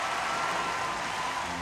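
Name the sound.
applause in a cartoon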